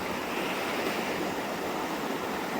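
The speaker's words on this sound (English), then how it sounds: "listening to the waves crashing" Ocean waves crashing onto a resort beach on the Riviera Maya, a steady, full broadband wash of surf with no gaps, fairly close and constant throughout.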